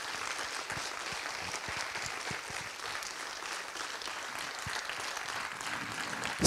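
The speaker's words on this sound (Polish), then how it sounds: "Wielkie brawa." Sustained audience applause after a film screening and discussion, a dense, steady wash of many hands clapping at even loudness throughout, with no talking over it.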